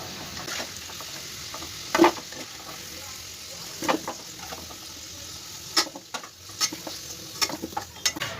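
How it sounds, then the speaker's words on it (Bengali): Potatoes fry in oil in a pan with a quiet, steady sizzle, broken by a few sharp scrapes and clinks of stirring. "আলুটা এবার একটু ভালো করে ভেজে নেব লাল লাল করে"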